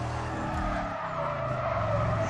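Car engine revving with tires skidding and squealing in the racing video game Need for Speed Carbon, a continuous loud roar with sliding screech, no talk.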